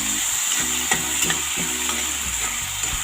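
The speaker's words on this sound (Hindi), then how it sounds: "ऐड कर देते हैं और इसको हल्का सा सॉफ्ट होने तक भून लेते हैं।" Two medium tomatoes frying in a pan, a steady close sizzle with repeated stirring scrapes at a loose rhythm, no voices.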